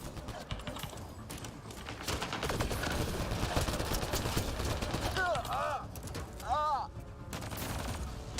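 Rapid gunfire bursts from the video game Mass Effect Andromeda, a dense, loud and continuous battle din with electronic whooshing effects near the end.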